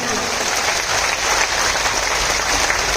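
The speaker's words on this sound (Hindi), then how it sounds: "तो एक बार और दोनों हाथ खड़े करो और फिर जोर से ताली बजाओ अपने लिए।" A large crowd at a political rally claps loudly with both hands raised, a thick, continuous wash of applause and crowd noise that stays steady throughout.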